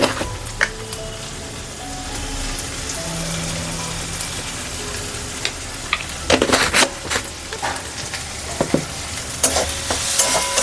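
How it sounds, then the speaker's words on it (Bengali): Hilsa curry sautéing in a pan, a continuous close sizzle broken by clusters of spatula scrapes and stirring clatter that grow busier toward the end. "আবারও ভালো করে কষে নেব"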